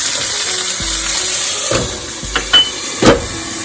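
Loud steady hiss of dumplings sizzling in a hot pan as the water cooks off, with a few sharp pops and crackles breaking through near the end.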